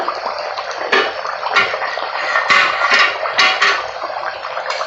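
A lid comes off a pot of simmering fish curry with giant taro, bringing a few close clattering knocks over a wet, bubbling hiss, with no talking.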